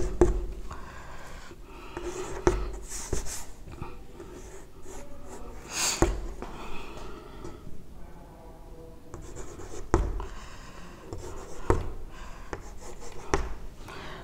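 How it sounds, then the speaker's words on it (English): Pen scratching across paper as examples are written out by hand, continuous rubbing strokes with periodic sharper taps and brief pauses, close and fairly loud, no talk. "So I am writing some more examples for you to understand better."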